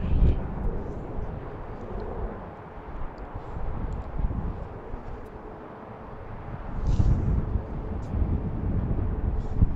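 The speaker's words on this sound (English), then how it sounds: "See another arrival coming in." An airliner arriving to land at BWI airport in Baltimore on a chilly afternoon, a broad low jet rumble rising and swelling toward the end, heard alongside steady outdoor wind.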